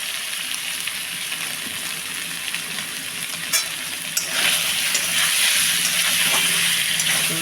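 Vegetarian dish in mustard oil sizzling steadily in a pan, a continuous frying hiss with scraping stirs that grow louder and busier in the second half; no talking.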